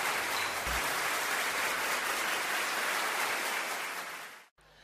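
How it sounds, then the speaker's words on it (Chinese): At a Teochew opera appreciation evening, the audience gives a full, steady round of applause that holds evenly, then tapers and cuts off abruptly near the end. "大家掌声有请"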